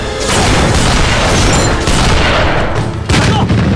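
Artillery shelling and gunfire in a war film battle scene: a loud, continuous barrage of booms and rattling blasts, with a sharper burst near the end.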